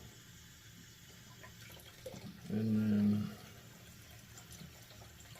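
Hot water poured into the chamber of a ceramic shaving scuttle makes a brief, fairly loud splashing pour of about a second, with quiet room sound before and after.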